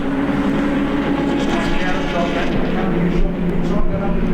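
Racing motorcycles roar past at a circuit in a continuous loud engine drone that swells slightly toward the end. A race commentator talks over it the whole time.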